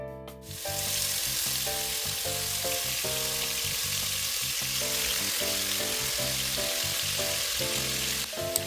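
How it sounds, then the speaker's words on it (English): Beef sears in hot oil in a pan for stew, a loud, dense, steady sizzle that surges in right at the start and holds close and continuous, with a faint rhythmic hum running underneath. "we're going to start searing our meat"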